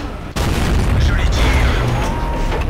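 Tank cannon shot from an AMX 50 100 in World of Tanks, a sudden loud boom followed by rumbling battle noise and a sustained low roar, with muffled talk underneath.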